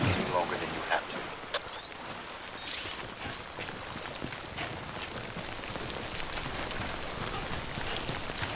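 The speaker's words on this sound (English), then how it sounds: "Don't stay out in the rain any longer than you have to." Steady rain falls in the video game Death Stranding, a constant hiss of drops on surfaces with occasional louder splashes and ticks throughout.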